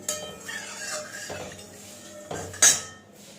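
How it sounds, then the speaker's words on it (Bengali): A spoon scrapes and clinks around the inside of a metal karahi, spreading hot oil in a few separate strokes with a soft sizzle underneath, near and quiet. "তো তেলটা ভালো করে কড়ার গায়ে চারিদিকে আমি লাগিয়ে নিচ্ছি।"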